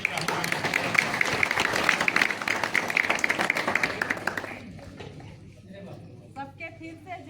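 Audience at a village council gathering bursts into loud, dense clapping in welcome for about four seconds, then it stops and a voice begins talking over quieter room sound.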